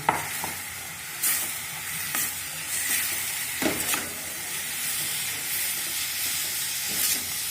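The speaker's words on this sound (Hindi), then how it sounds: "अब इसमें हम पोहा डाल देंगे और मिक्स कर लेंगे।" Poha is tipped into a hot pan over a full flame and stirred. A soft, continuous sizzle and hiss runs throughout, broken by scraping strokes and occasional sharper clinks of the spoon.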